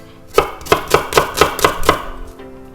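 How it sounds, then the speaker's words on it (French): A knife cuts zucchini into squares on a board, seven crisp evenly spaced chops landing about every quarter second, close and loud with no talking. "Couper en deux et faire des carrés"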